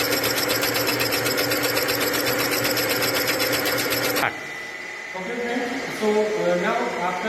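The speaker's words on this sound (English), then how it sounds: "about the surface grinding machine. Okay. So basic purpose of grinding machine is to finish the surfaces" Surface grinding machine running in a workshop, a loud steady mechanical drone that cuts off abruptly partway through, leaving quieter workshop noise and a voice speaking.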